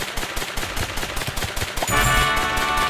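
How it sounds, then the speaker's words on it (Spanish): Rapid, loud gunfire from the shooter game Monster Blast, a quick run of close shots followed by a denser burst of weapon noise. "Ahí sigue el disparo."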